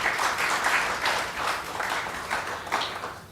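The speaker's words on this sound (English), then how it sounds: "I would like all of us to give him a warm round of applause" Warm round of audience applause at a chamber of commerce youth wing business event, steady dense clapping from a crowd, moderately loud and continuous with no talk.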